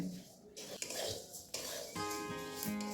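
Coarse ration rice dry-roasts in a pan, with soft scraping stirs and metallic clinks of utensil against pan, faint and close, and a brief ringing tone near the end.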